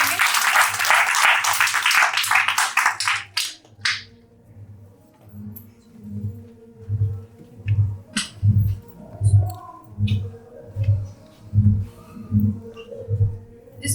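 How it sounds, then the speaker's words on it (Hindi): A congregation at a church service bursts into loud applause that fades after a few seconds, then a rhythmic, steady clap pattern continues with soft background murmur. "अच्छे वचन के लिए हम ताली बजाकर परमेश्वर के नाम को महिमा देंगे।"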